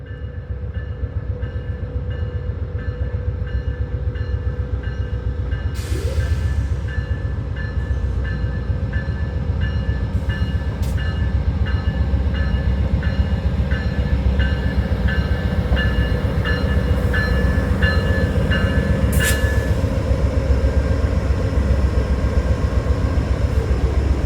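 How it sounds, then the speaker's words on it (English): VIA Rail P42DC heritage unit locomotive hauling a passenger train arrives at Niagara Falls, a steady heavy diesel rumble and rolling wheel noise running throughout, with brief squeals and clanks along the way. "the Heritage Unit is arriving in Niagara Falls, heading its way bound for Toronto's Union Station"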